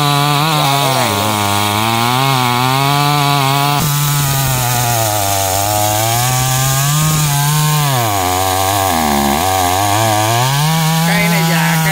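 Loud, continuous chainsaw engine whine with shifting pitch as the blade cuts through a huge old rain tree trunk, running close and unbroken throughout.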